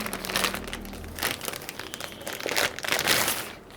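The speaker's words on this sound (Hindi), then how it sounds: "और इसे मैं अनबॉक्स कर लेता हूँ।" Crinkling packaging from a Huawei B311As-853 LTE 4G router being unboxed. The plastic and paper rustle steadily and close up for a few seconds, with no talking.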